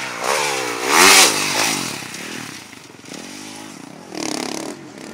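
A 2019 Rockstar Edition Husqvarna FC450 motocross bike runs close by, its four-stroke engine revving up and easing off in loud, rising and falling bursts with no talk over it.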